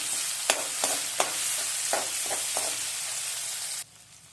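Tomato being sautéed with fried onion in a pan, a hissing sizzle broken by several sharp stirring scrapes and taps, cutting abruptly to quieter frying near the end.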